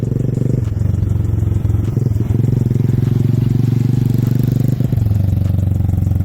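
A 600 cc motorcycle ridden slowly by a learner on his second lesson, its engine chugging at a steady low idle-like rumble with light clatter, close and loud throughout.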